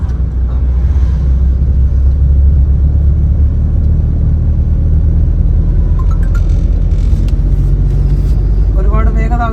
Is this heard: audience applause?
no